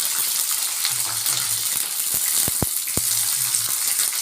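Mild light-green chillies fry in a pan as the first step of a coriander chutney. A steady, close sizzle runs throughout, broken by a few sharp taps and clicks near the middle.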